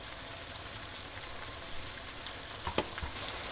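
Food sizzles steadily in a pan while cooking for buttery spaghetti bolognese, a close, even crackling hiss with a few louder pops and clatters near the end, no talk over it.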